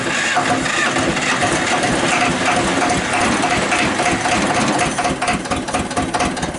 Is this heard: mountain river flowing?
no